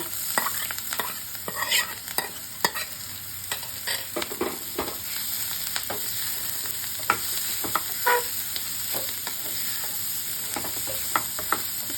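Rice is stir-fried with fried radish greens, green chili and turmeric in a pan. A constant sizzle runs under frequent, irregular scraping strokes of a spatula, close and fairly loud, with no talking.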